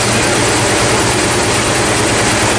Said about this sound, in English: Fires up, idle